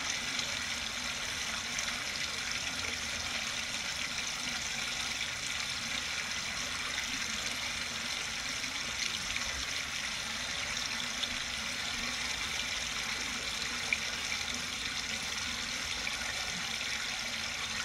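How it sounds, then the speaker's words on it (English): Continuous broad rush of water flowing over a dam, a steady even roar with no breaks and no voices. "there's a nice flow of water"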